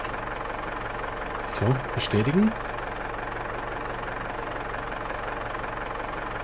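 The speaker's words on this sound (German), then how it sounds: "Wir fahren mit dem Traktor hin" A tractor engine idles steadily in the farming game Farmers Life, a low constant hum beneath brief speech.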